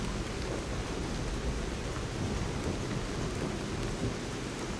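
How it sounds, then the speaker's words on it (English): Heavy rain pours steadily through a rainy night at a city station plaza in the video game Lies of P, with low rumbling thunder blended into the dense, constant wash, loud and unbroken with no voices. "Crot Central Station Plaza on a rainy night."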